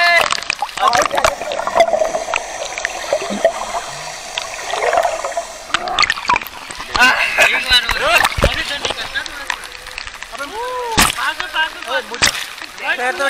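People splashing and sloshing into swimming pool water in Ghaziabad, with irregular splashes, trickles and gurgles close by, mixed with excited talking throughout.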